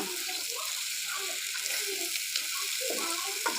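Fish is stirred into spices with fennel seeds in a hot pan for a dopiaza. A continuous sizzle and soft stirring scrapes run beneath a person talking.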